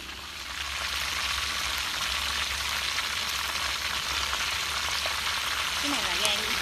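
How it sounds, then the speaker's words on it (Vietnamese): Offal, liver and heart, frying in a pan during village cooking, giving a dense, steady sizzle and crackle that runs throughout at an even, close level. "giờ mình sẽ chiên luôn bộ đồ lòng của nó"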